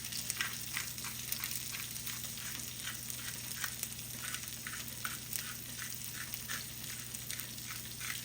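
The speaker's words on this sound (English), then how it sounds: "Once the griddle is hot, add the pierogies to the butter." Cabbage pierogies frying in butter on a hot griddle give off a steady, close sizzle with faint crackling pops spread evenly throughout, under a low constant hum and no talking.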